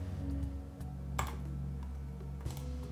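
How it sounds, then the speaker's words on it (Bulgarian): Two faint, dry computer mouse clicks sound about a second apart over a steady low electrical hum, with no talking. "С няколко клика получаваме това, което искаме."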